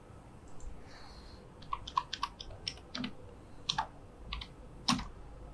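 Keys on a computer keyboard are tapped in a short, uneven run of distinct clicks as a mobile number is entered, faint and close against a quiet background.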